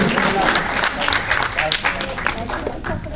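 An audience claps at an award felicitation during a Marathi literary conference, a brief burst of scattered applause mixed with a speaking voice.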